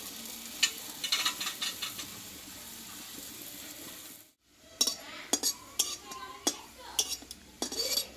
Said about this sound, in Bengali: দেখো বন্ধুরা এইভাবে একটু অল্প তেলে যেহেতু ভাজা হচ্ছে এইভাবে চেপে চেপে একটু ভেজে নিতে হবে